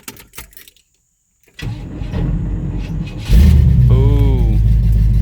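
A 1994 Chevrolet S-10 Sonoma V8 cold start: quiet clicks and a short pause, then the starter cranks and the engine catches with a loud jump into a rough, steady idle.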